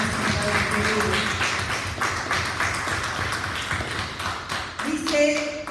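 A church congregation applauding, with scattered clapping and taps over several seconds alongside talk from a voice.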